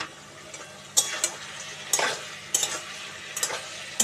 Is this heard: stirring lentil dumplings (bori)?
yes